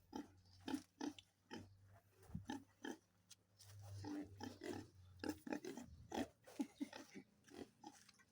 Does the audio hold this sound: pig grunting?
yes